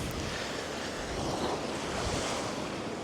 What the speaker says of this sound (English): Nice big breakers.